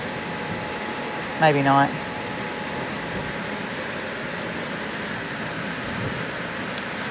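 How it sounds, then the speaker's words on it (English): Household blower hums steadily as a broad, even wash of air noise, with a brief voice speaking briefly over it near the start. "She's just gonna turn the blower off"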